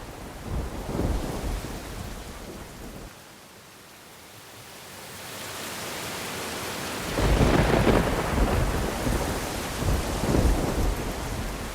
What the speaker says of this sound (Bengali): অনেক দিন পর কালবৈশাখী এলো। এত সহজে আর থামবে না।